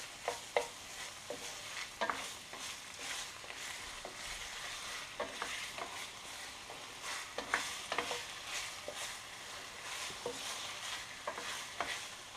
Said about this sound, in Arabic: هنا ندير كميه من البصل ونقلي